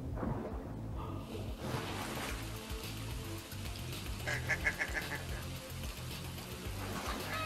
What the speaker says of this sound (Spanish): un lago rodeado de gansos